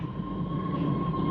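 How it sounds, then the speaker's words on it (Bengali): A train is starting to move off from a station, giving a low, steady rumble with a faint hum above it, fairly quiet and brief, with no voices. "ট্রেন চলতে শুরু করেছে।"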